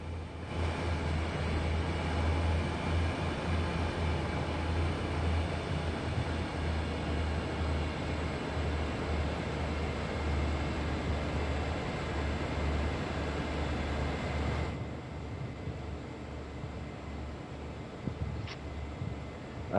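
Diesel freight locomotive rumbling steadily in a train simulator game while it notches down its throttle, a dense continuous engine and rail drone that drops slightly in level near the end, with no talk.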